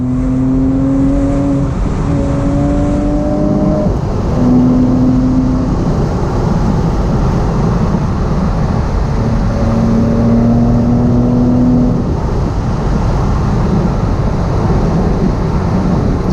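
A Porsche 987 Boxster S flat-six engine drones loud and steady from inside the car on Cotswolds country roads at sunset, with engine tones rising and falling as it shifts and accelerates over constant road and wind noise.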